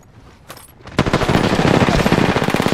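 Gunfire from the Apex Legends video game: a single shot, then a loud, sustained burst of rapid automatic fire that rattles on continuously at close range.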